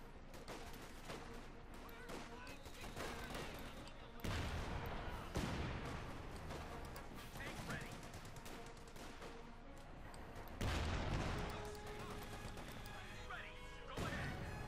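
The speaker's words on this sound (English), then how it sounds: "One mortar fire, and there we go." Mortar and other battlefield fire in the Company of Heroes 2 strategy game, with repeated booming blasts and impacts over a constant bed of gunfire and explosions, a loud burst landing around the middle and another near the end, while a commentator talks throughout.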